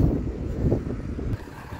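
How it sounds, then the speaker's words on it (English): Gusty wind buffets the microphone with a low, rumbling roar that swells and dips, loud and close, with no voices, outdoors at a hay barn under construction. "It's kind of windy here today"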